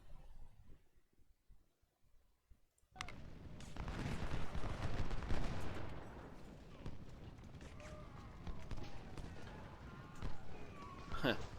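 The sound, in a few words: gunfire from invisible units in a strategy video game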